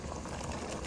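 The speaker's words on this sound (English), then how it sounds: "Look, it started bubbling." Water in a cooking pot bubbles at a rolling boil before white beans (black-eyed peas) go in, a dense, steady close-up hiss of bursting bubbles.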